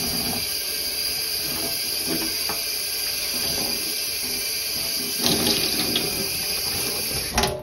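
Tap water runs steadily from a faucet while freshly dyed, cooled yarn is washed, a continuous close hiss and splash that swells a little near the end.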